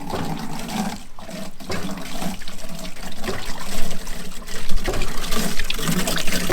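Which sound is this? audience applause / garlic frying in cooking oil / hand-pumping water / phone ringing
hand-pumping water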